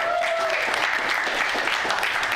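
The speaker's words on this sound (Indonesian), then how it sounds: "gue mau kalian semua tepuk tangan untuk sepupu gue dan game masternya Cliff Da" Audience applause at a live show, a steady dense wash of many hands clapping that fills the whole stretch at an even loudness, with a faint voice or tone briefly audible near the start.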